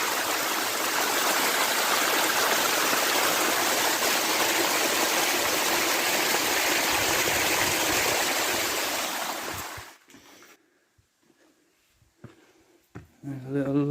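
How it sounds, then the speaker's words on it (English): Rushing stream of water pouring down a barranco like a river on a hike near Los Gigantes, Tenerife: a loud, steady broadband roar for about ten seconds that cuts off abruptly, followed by near-quiet with small knocks. "It runs right down the barranco like a river."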